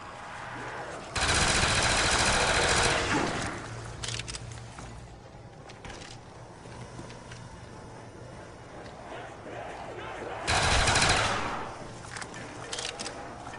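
Submachine gun fire in Call of Duty: Black Ops, with a long burst of rapid automatic shots near the start and a shorter burst near the end, separated by quieter game sounds.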